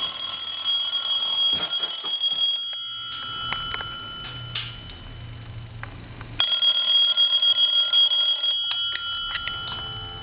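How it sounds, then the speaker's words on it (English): A Trimline-style telephone in a Buffalo Bills helmet housing rings with a bright electronic ringer in repeated bursts, close and loud, with a pause of about three seconds midway before the ringing resumes, alongside some handling clicks. "I want to ring the telephone"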